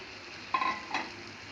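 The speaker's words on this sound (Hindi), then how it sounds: "आलू को हमने अच्छे से मिक्स कर लेना है।" Potatoes are mixed into fried masala in a pan, producing a quiet background sizzle with two short scraping stirs of a utensil.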